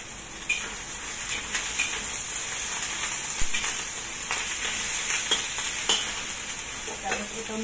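Vegetables including bean sprouts, carrot, fungus and green beans sizzling loudly in a pan while stir-frying pancit, a dense continuous crackle with scattered scraping stirs throughout.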